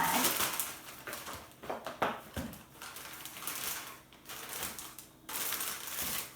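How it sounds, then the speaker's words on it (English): A ball of dough is pushed into a plastic bag in a kitchen, with a steady run of crinkling, rustling plastic and soft handling noises, close and fairly loud with no talk. "I'll put the ball of dough into the plastic bag"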